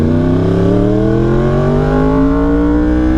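Engine of a 2020 Yamaha R1 motorcycle idling and revving, a loud, close, steady drone whose pitch climbs gradually through the whole stretch.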